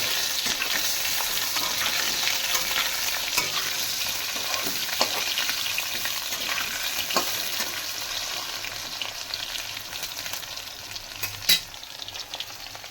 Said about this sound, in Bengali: আলু ভাজা হচ্ছে এদিকে